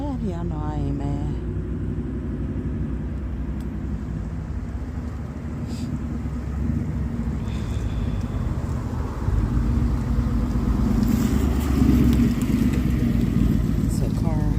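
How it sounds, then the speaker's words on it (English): A car coming down a driveway, its low engine rumble steady and growing slightly louder as it nears, while a person talks over it. "So there's a car coming down."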